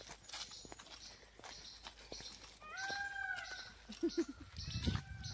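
A peacock calls from a tall tree near a Ganapati temple, a few nasal wailing cries over faint outdoor ambience, with footsteps and some low sounds close by toward the end.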